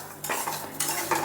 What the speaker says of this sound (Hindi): धीरे धीरे आँच को धीमा रखना है और धीरे धीरे इसको चलाते रहना है